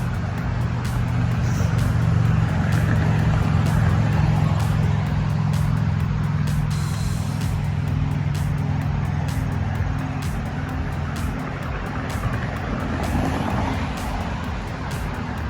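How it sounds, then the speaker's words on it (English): Steady road traffic roars continuously from nearby. It forms a broad low rumble with a constant hiss of passing cars and trucks, heard from a hiking trail, with no pauses. "I bet a bunch of this traffic noise will go away as soon as we get down in here."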